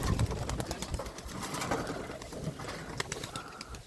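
Many pigeons gathered close by, soft cooing mixed with rustling, wing flutters and faint clicks, a steady busy murmur of birds.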